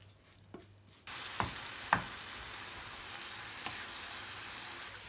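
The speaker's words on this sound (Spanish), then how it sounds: "un poquito de sal, el aceite y freímos la cebolla muy bien." Onion hits hot oil with a sudden loud hiss that settles into a steady, close sizzle, with a few clicks of a utensil and no voices.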